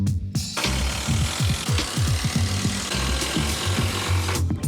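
A hand saw cuts through a wooden framing stud in quick, rhythmic rasping strokes, loud and close, with no talking.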